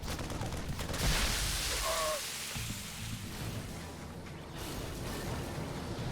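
Siege tanks firing in a StarCraft 2 match, a dense, loud barrage of overlapping blasts and mechanical rumble that swells early, then holds as a steady roar of game combat.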